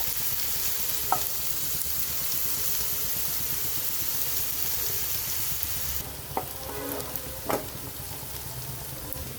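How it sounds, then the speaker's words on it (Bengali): Onions fry in oil with a continuous, dense sizzle close by, and a couple of faint utensil knocks come near the middle and again toward the end. "পেঁয়াজটা ভালোভাবে তেলের সাথে মিশিয়ে নিতে হবে"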